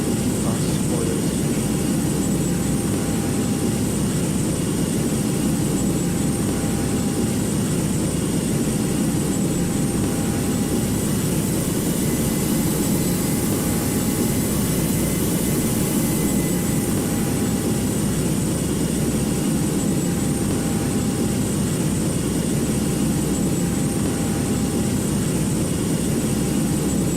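A British Airways A320neo taxiing to the gate in a flight simulator game gives a steady, continuous engine hum and whine that holds at an even, loud level from start to finish without a break.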